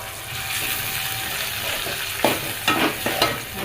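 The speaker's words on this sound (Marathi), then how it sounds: "छान असं तेल सुटेपर्यंत त्याला ढवळायचं." Vada pav spice paste with coriander and curry leaves sizzles in oil as it is stirred, with a constant frying hiss broken by a few sharp scraping clacks of the spoon near the end.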